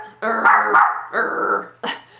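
Dog barking nearby indoors, three or four loud, close barks in quick succession, alone without talk.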